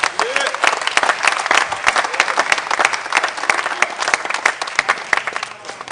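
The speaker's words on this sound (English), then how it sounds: "I want us to give him a huge round of applause" A hall audience at a symposium claps loudly and steadily, crisp individual hand claps standing out in a dense, sustained round of applause.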